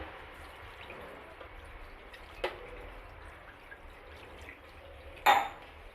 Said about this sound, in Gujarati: હજુ આપણે એક ગ્લાસ પાણીથી પનીરને ધોઈ લેશું